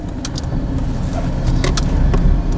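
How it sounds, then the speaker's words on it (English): Wind noise and tire roar fill the cabin of a Peugeot 107 cruising at 80 km/h, a dense, steady broadband rumble that never lets up, with a few faint rattles on top. "The car's just filled with wind noise and tire roar."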